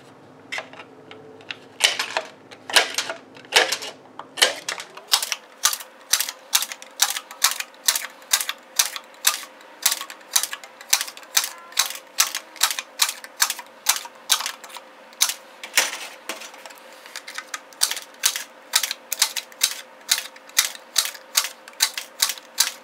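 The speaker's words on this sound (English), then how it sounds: "Now using our notchers, we're going to notch out our lap." Hand notchers repeatedly snip through sheet metal to cut out a lap for an end cap, producing a long run of sharp, crisp metallic clicks, irregular at first and then a steady rapid rhythm, close and loud with no voices.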